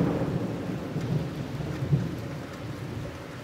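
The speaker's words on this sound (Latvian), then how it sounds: "Tuvas izlādes, ļoti tuvas izlādes" Thunder rolls low and heavy through a severe thunderstorm with hail in Jelgava, Latvia. Rain hisses steadily underneath, and a deeper boom swells near the middle before the rumble fades.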